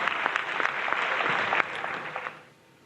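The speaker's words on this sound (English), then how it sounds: "Does it deserve applause? Yes, it does." A crowd of people claps and cheers in a dense, steady round of applause that fades out near the end.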